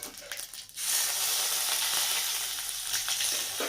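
Mustard seeds, cumin and curry leaves hit hot oil for tempering, a brief quieter start, then a sudden loud crackling sizzle that holds steady, with faint popping and stirring.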